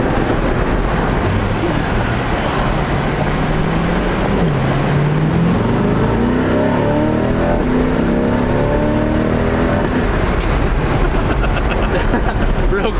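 A Nissan S14 pulls hard from a standstill to about 70, its engine note rising through the gears with a steady sweeping climb over loud, constant road and wind roar inside the cabin.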